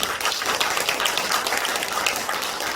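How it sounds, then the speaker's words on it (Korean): A church congregation claps for the choir in steady, dense applause from many hands, filling the room evenly throughout without any speech on top. "찬양대를 위해서 박수 한번 치겠습니다."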